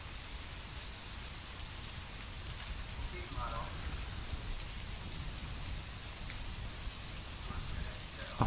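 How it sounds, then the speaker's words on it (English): Wind-driven rain falls steadily outside at a treehouse dome build site in cold weather, a dense, even hiss of drops pattering on surfaces, with a faint voice and a few small knocks near the end. "Really crappy weather, it's raining from the side like this."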